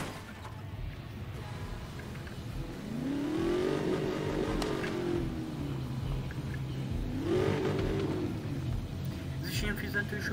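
A car engine in the Need for Speed: Most Wanted racing game revs up in two rising, sweeping surges, loud over a steady engine drone, with people talking throughout.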